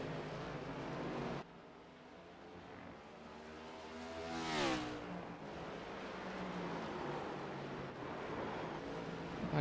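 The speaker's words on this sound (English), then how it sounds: "I hear tires screeching." Tires screech from a stock car locking up under braking in the FastTrack Cup Series racing game at Watkins Glen, a single rising-and-falling squeal cutting over steady engine and road noise for about a second midway through.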